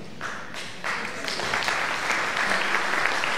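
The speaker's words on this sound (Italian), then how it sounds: "Ancora un grande applauso a Robert Lani" Steady audience applause at an outdoor anniversary commemoration in southern Italy, a continuous bed of clapping that builds slightly and holds at moderate loudness without speech.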